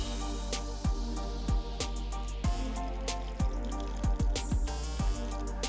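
Soy sauce poured through a cheesecloth strainer drips into liquid below, a close, irregular series of distinct plinking drops over a low steady background hum.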